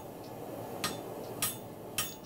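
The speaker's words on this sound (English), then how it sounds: "this demonstration is about hand hammering" Hand hammer striking hot steel while forging a throwing axe, three separate sharp metallic blows about half a second apart over a steady background hiss.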